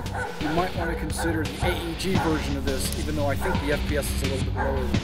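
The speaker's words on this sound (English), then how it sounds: "that's a dog that maybe I should shoot" A dog barks and yips repeatedly at close range, a loud, irregular run of barks and whimpers mixed with someone talking over it.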